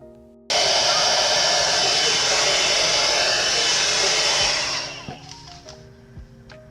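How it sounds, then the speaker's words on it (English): A hair dryer blows hair, heard close as a loud, steady whoosh that cuts in abruptly, runs for several seconds, then winds down as the power cuts out from a tripped circuit, leaving faint clicks. "while I was blow drying my hair, I blew a circuit"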